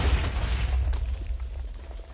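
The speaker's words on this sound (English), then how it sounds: "fireworks with TNT." Minecraft TNT firework cannon explosions in a video game, a loud booming blast at the start followed by rumbling, crackling bursts that fade over about two seconds.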